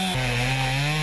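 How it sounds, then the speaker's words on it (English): A chainsaw buzzes during cleanup of storm-broken trees, a loud close engine whine that jumps sharply in pitch as the throttle opens, then holds steady. "Chainsaws buzzed"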